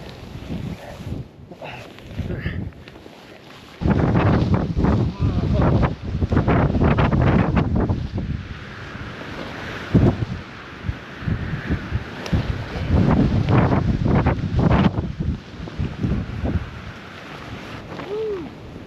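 Strong storm wind buffets a campsite, roaring and gusting loudly throughout with heavy rumbling bursts against the microphone and brief calmer lulls between.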